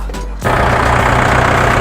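A tractor engine starts and settles into a loud, steady diesel chug close by, with no talk over it.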